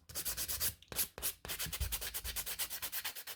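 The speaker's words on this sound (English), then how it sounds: "I'm not filing loads, I'm just flattening it slightly, it's not gonna ruin the nail." An acrylic nail being filed flat with steady back-and-forth strokes, a rapid, even rasping rhythm, close and alone, with two brief pauses early on.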